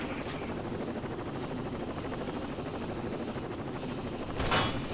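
A helicopter in Rainbow Six Vegas 2 gives off a steady, loud rotor and engine drone that fills the whole stretch, with a brief louder swell near the end.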